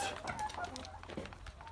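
Chickens cluck close by inside a coop, a busy jumble of short calls and squawks overlapping against a quiet background.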